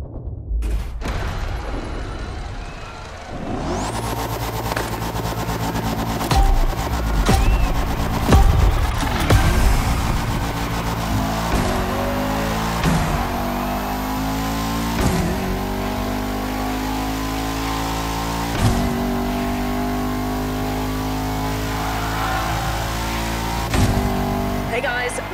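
A Bugatti Veyron Barchetta engine in a racing video game revs hard and repeatedly, with sharp upshifts and steady acceleration roaring on for about twenty-five seconds, loud and close.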